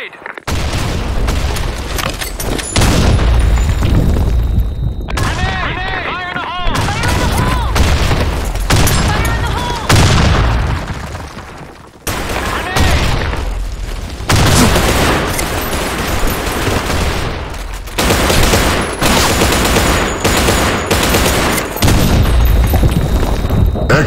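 Nonstop loud gunfire and booming blasts from a grenade in the shooter game Blackshot, dense volleys broken by brief pauses with a heavy explosion among them, while game voices call out over the din.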